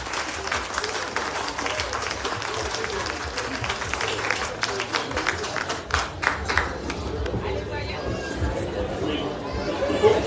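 A crowd at an outdoor town festival applauds a championship-winning rugby club with sustained clapping mixed with chatter and voices, running steadily for about ten seconds.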